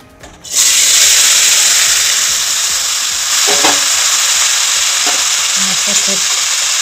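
Climbing perch fish dropped into hot oil, with a loud, sudden sizzle that swells into a continuous close frying hiss, broken by a few faint knocks and clinks.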